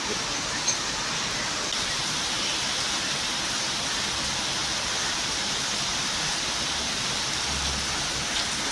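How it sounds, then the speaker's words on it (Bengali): Steady, dense hiss of rain falling continuously on surfaces, even and unbroken from start to finish. "বৃষ্টি হচ্ছে"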